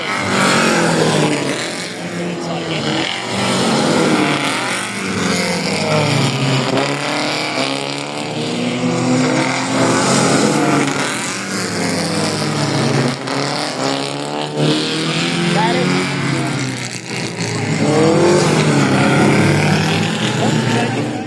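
Race cars lapping Zwartkops Raceway, engines roaring and whining through repeated rising and falling pitch sweeps as several cars pass close by one after another, loud and continuous.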